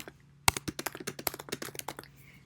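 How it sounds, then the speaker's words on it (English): Rapid, uneven keystrokes on a computer keyboard, a dense burst of clicks with one sharper tap near the start, close and fairly quiet, with no talking. "you're typing this directly into this field"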